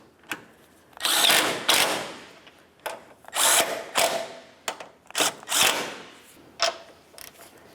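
Strut mounting nuts on a 2009-2010 Pontiac Vibe are tightened with a power tool, loud close bursts of whirring and ratcheting in several short runs separated by brief pauses.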